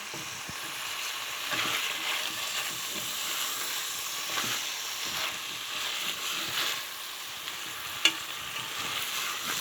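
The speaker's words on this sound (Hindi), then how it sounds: "कीमा जो है वो कितने अच्छे तरीके से भुना जा रहा है।" Minced mutton keema fries and browns in a pan with a steady close sizzle, stirred by a spoon with soft scraping and one sharp clink near the end.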